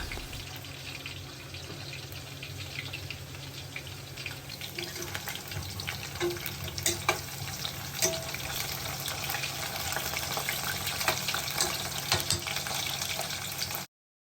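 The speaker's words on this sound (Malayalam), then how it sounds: "കുറച്ച് ഓയിൽ വെച്ചിട്ട് ഉരുളങ്കിഴങ്ങ് ഇതാ ഞാൻ ഒന്ന് ഫ്രൈ ചെയ്തെടുക്കുന്നുണ്ട്" Potatoes fry in oil in a pan, a steady dense sizzle with crackles and faint clinks, continuous for the whole stretch.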